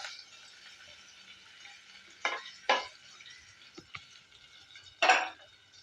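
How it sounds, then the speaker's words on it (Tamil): Onion, cinnamon, clove, cardamom and bay leaf are sautéed in oil under a steady faint sizzle, broken by a few sharp spatula scrapes against the pan, close and without talking. "இதை நம்ம வதக்கி எடுத்துக்கலாம்."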